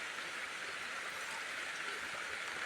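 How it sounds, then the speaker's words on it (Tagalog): Heavy downpour on a hillside farm plot, with people sheltering under a banana tree; a loud, steady, dense hiss of rain fills the whole clip with no talk. "Biglang bumuhos, napakalakas ng ulan."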